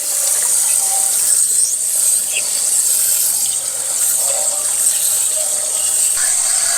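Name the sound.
brown water gushing out of RV water heater drain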